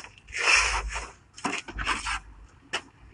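A large sturgeon is turned over on a cleaning table, producing a few close, rough scraping and rubbing bursts with soft thumps against the surface, no talk.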